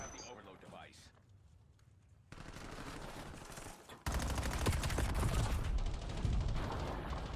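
Gunfire rattles in the video game Black Ops 7, with loud bursts of automatic shots that grow heavier toward the end over the game's background sound.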